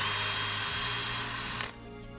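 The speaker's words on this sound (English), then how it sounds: "what I'm going to do is just drill a bit here" A power drill bores into thick wooden nogging up in an attic, whining loudly and steadily with a brief shift in pitch partway through, then cutting off abruptly and leaving a quieter room.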